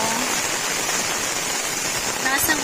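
Steady, dense hiss of heavy rain falling during a storm at a farm with chickens and vegetable plants, filling the whole short stretch without a break.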